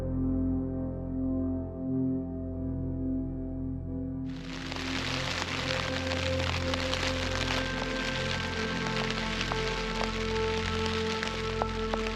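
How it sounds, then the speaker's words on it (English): Rain begins falling on a mountain campsite after a steady low hum, suddenly breaking into a dense, constant hiss of drops pattering on surfaces that continues without pause. "Right around 3 o'clock, rain started. It's coming down pretty good."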